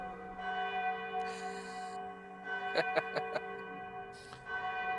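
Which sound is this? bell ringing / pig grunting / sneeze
bell ringing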